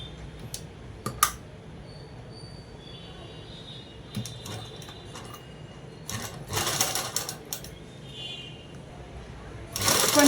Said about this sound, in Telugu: ఇలా అనేది మడిచి అనేది కుట్టుకోవాలి